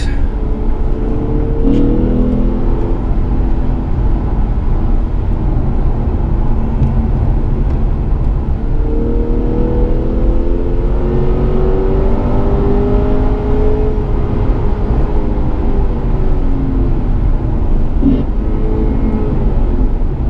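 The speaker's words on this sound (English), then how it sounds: "Like, just that blip on the downshift to match the gearing." Lexus RC F V8 climbing a rainy canyon road, with engine note rising and falling through short rev-matching throttle blips on downshifts, heard steadily from inside the car amid road and rain noise.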